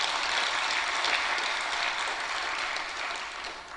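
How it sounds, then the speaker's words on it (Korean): A church congregation applauds a choir continuously, a dense wash of clapping that holds steady and eases slightly toward the end, with no talking. "박수 한번 쳐줘요."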